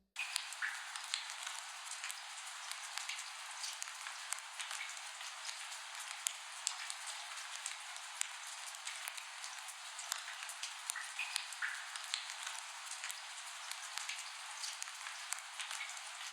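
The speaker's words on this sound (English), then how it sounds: "The only other sound I have in here is a rain effect," A rain effect from a music track gives a steady, soft patter of raindrops. It is filtered thin and airy with no low end and stays even and quiet throughout, with no voices.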